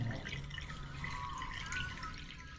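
Water is poured in, making a continuous splashing, trickling liquid sound that stays fairly steady throughout, with a faint background hum.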